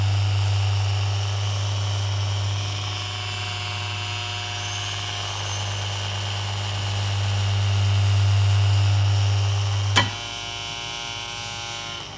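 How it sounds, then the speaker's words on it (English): Magnetic river linear motor model with a small air screw propeller, giving a strong steady electrical hum with a whirring tone, followed by a sharp click near the end as it switches off. "I'm going to put a little air screw on it, and when I switch this on"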